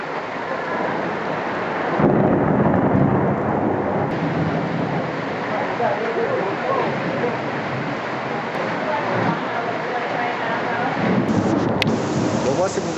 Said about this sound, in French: On n'a jamais vu un orage aussi gros hein.